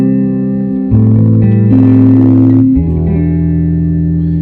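Electric guitar through a Fender amp with soft tremolo sounds a few sustained, slightly wavering notes with neck vibrato, close and loud, each ringing into the next with a gentle reverb shimmer.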